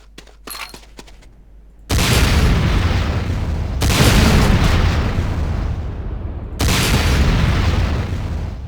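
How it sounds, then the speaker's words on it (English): Rocket launcher fire in C&C: Renegade, a few faint clicks followed by three heavy booming blasts, each cutting in abruptly and rumbling on with long roaring decays, loud and close. "Next up is the Sakoze 66mm Type R12 Locust automatic rocket launcher."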